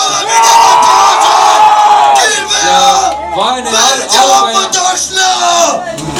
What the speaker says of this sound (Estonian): Aplausid on lubatud